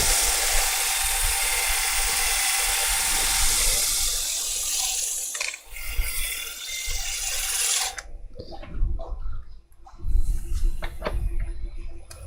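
A wood lathe turning an unknown species of wood spins up faster, a loud, steady broadband whirr with hiss, followed by quieter intermittent scraping and knocks as the cutting continues.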